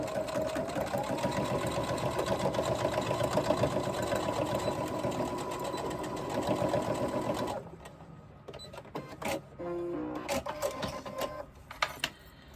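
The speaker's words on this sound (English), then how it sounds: "Now we are going to do our 3/8 inch seam. Stitch that all together." A sewing machine stitches a 3/8 inch seam on the lining of a crossbody bag, running in a steady, continuous hum, then stopping and giving a few short bursts of stitching.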